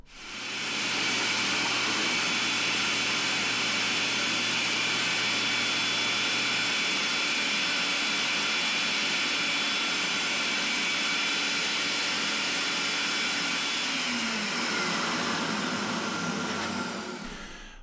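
A dust extractor draws off cedar wood shavings with a continuous, airy roaring whoosh, fairly loud and steady throughout, easing off slightly at the end.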